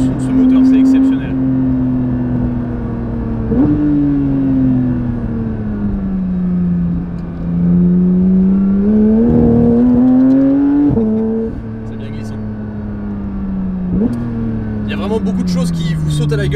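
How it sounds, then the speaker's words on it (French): The naturally aspirated flat-six engine of a Porsche 992 GT3 revs up and down in smooth rising and falling sweeps, loud and close from inside the car, with shifts cutting the pitch and occasional voices over it. "le son de ce moteur, c'est exceptionnel."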